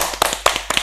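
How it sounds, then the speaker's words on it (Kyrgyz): An audience at a studio show claps in a few quick sharp bursts over a steady background hum, brief and close. "Кол чаап коелу."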